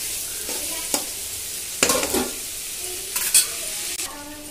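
Onions frying in a pan for Hyderabadi bagara khana, a steady sizzle with several scraping stirs of a utensil, fairly close and with no talk.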